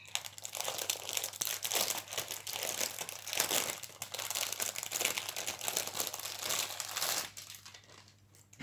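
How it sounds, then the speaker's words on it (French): Bubble wrap packaging crinkles and crackles steadily as it is pulled off a diamond painting kit, loud and close, with no talking, before the rustling fades near the end. "Donc, elle était emballée dans du papier bulle."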